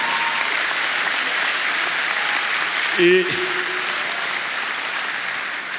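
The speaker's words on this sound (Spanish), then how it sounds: "Dale un aplauso al Rey bendito" Steady, dense applause from a church congregation during a Spanish-language sermon fills the whole stretch at an even level, with one brief spoken syllable near the middle.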